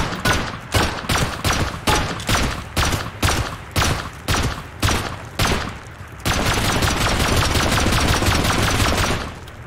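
Gunfire during a bunker base raid in Rust comes as a run of evenly spaced, loud single shots, then switches to a continuous dense roar of rapid fire before cutting off.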